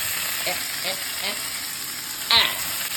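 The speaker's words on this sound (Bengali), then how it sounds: "ভাজাভাজি চলছে। চলুক শাক।" Drained, chopped greens (shaak) fry in a pan with a steady sizzling hiss, broken by a few soft stirring scrapes and one sharper clatter near the end.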